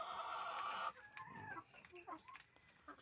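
Laying hens in a poultry layer house cluck and murmur close by, with a dense, steady burst of flock noise at the start that then thins into scattered individual clucks and calls.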